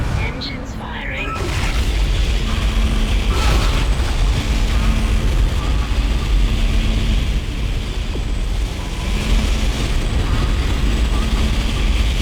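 Spaceship engines fire in the Dead Space video game, a heavy, sustained roaring rumble that swells to full strength within a second and holds, with faint booming textures underneath.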